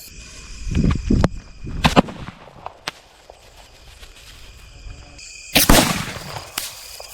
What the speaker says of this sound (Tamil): நம்ம இப்போ வச்சுன்னு பார்த்தா மேலே போகாமல் கீழே வெடிச்சுது